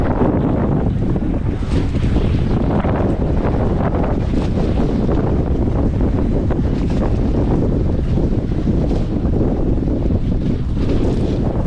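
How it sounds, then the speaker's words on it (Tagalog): Strong sea waves crash continuously on a shore under heavy wind buffeting the microphone, loud and close, with no talk. "Ang lalakas ng alon."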